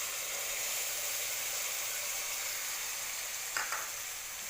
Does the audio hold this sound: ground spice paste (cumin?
yes